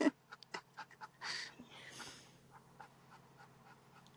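A dog pants softly in quick, faint breaths indoors, close but quiet, with a few light rustles and no talking.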